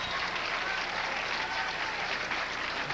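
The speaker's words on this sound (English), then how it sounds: "Boy, the crowd seems to really be into this title match." Crowd at a 1987 PBA Columbia 300 Open bowling title match applauds steadily, a dense, even wash of clapping filling the whole stretch without pause.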